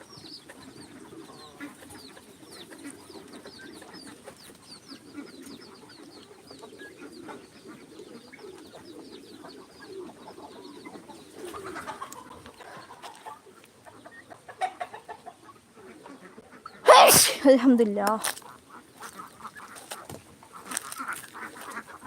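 Turkeys and chickens calling in a yard, with many overlapping clucks and gobbling calls at moderate distance, a brief loud flapping or squawk burst near the middle, and a voice speaking briefly.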